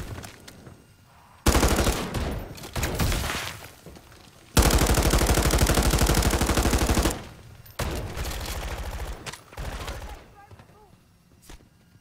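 Rapid automatic gunfire from Call of Duty Zombies rattles in several long, loud bursts separated by short pauses, with the longest sustained stream in the middle and shorter volleys toward the end.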